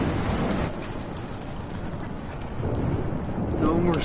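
Heavy storm rain pours steadily in the video game Life is Strange, with wind buffeting and low rumbling thunder swelling and easing, a continuous wash of noise with a brief tonal sound near the end.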